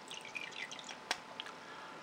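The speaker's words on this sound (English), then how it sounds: "push down on the plunger. There we go, lots of bubbling." An Onoto fountain pen's plunger draws in water with a patter of small bubbling pops and gurgles, then one sharper pop, all faint and close with no speech.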